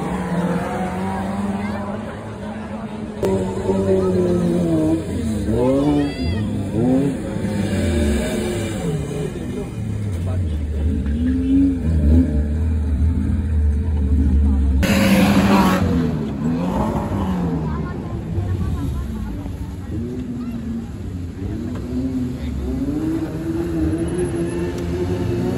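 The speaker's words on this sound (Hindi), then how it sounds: "Drag race." Cars revving at a drag race on a ground, loud engines rising and falling through repeated bursts of acceleration amid crowd noise and talking.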